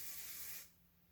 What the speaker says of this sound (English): I will take the curl spray